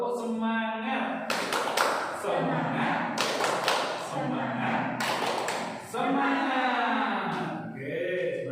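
Group of people doing a rhythmic 'tepuk semangat' clap chant, bursts of claps in a patterned rhythm mixed with voices chanting and talking.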